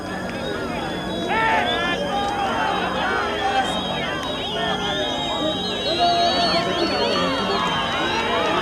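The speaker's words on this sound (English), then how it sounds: "Crowd getting excited" An excited crowd cheers and murmurs at Nelson Mandela's release in 1990, a dense outdoor babble of many voices with rising shouts and whistles, mixed with nearby speech.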